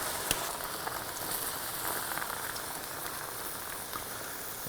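Beef broth is poured into a pot of black bear shank, making a soft, continuous trickling patter with light crackle, fairly quiet and steady throughout.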